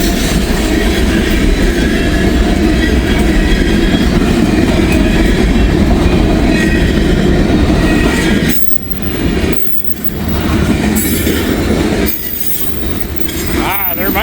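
A freight train hauled by locomotives rumbles past at close range, loud continuous rolling of railcars with wheel squeal and clickety-clack on the rails, easing slightly near the end.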